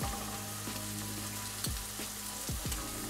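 Chopped onion and pre-cooked smoked calabresa sausage sauté in a pan with a steady, close sizzle, broken by a few sweeping scrapes of a utensil.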